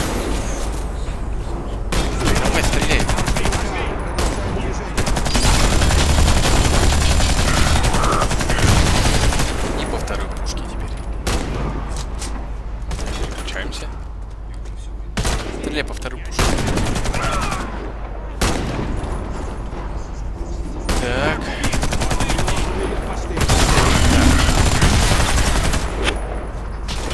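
Bursts of automatic gunfire from the video game Warface, with dense rapid volleys and explosive booms continuing almost throughout, loud and close.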